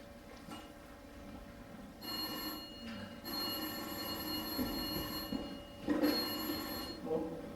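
An old-style telephone bell rings in several sustained bursts separated by short pauses, clear and moderately loud over a quiet room background.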